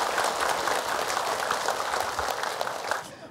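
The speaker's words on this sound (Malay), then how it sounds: "Tepuk tangan dulu dong ah" A studio audience at an Islamic religious talk show claps in a sustained, dense burst of applause, loud and even throughout with no speech over it.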